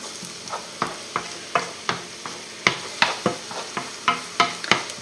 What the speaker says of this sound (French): Ça va caraméliser nos oignons